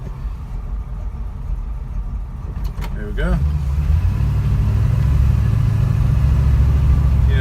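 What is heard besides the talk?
Mustang coupe engine idling, then pulling away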